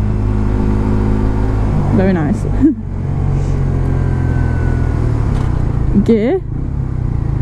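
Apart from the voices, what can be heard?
Suzuki GSXR125 motorcycle engine with standard exhaust riding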